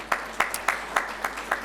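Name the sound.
audience applause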